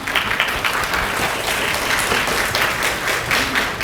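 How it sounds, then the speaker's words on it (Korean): Audience at a Korean high school admissions strategy seminar gives steady, dense applause, a continuous wash of many hands clapping at even loudness throughout. "힘찬 박수 부탁드립니다."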